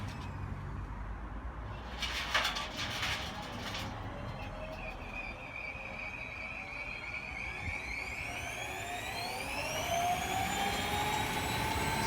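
A rebuilt Hotpoint appliance motor powered up slowly on a Variac, a rising whine with climbing harmonic tones that grows steadily in pitch and loudness as it spins up, preceded by a brief rattling clatter.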